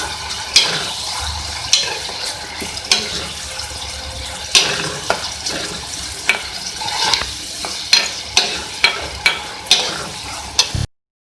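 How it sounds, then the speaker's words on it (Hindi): Chicken mince fries with ginger-garlic paste, sizzling in a pan while a utensil repeatedly scrapes and stirs, producing sharp clinks at an irregular rhythm over a steady frying hiss. "इसके साथ भी हम इसको फ्राई कर लेंगे।"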